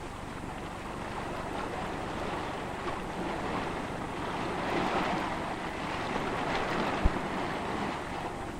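A raft plunging down a long timber water chute on the Isar River in Germany, with broad, steady rushing water and wind roar throughout, swelling slightly midway, with no one talking.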